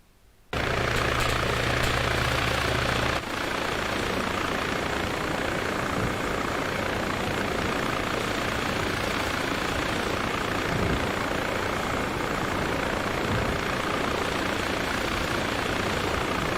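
Military helicopter engine from the Arma 3 video game, a loud steady whine and rotor drone that starts abruptly and holds continuously, with a brief low idling hum at the start and no talking.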